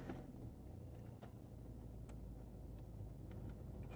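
Car engine idling steadily with the cabin heater switched on during an antifreeze change, a low continuous rumble heard alone.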